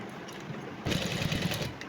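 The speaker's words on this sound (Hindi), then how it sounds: "सबसे पहले आपने क्या करना है, जैसे यहाँ पर मुझे सिलाई लगानी है यहाँ से" A sewing machine stitches through folded dress fabric, its steady motor whir starting just under a second in and running loud and continuous to the end, with no talk.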